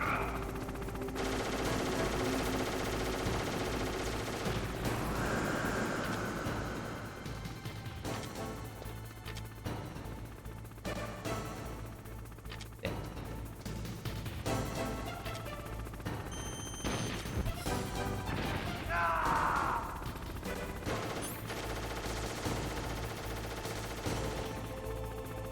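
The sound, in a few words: gunfire in the video game Metal Gear Solid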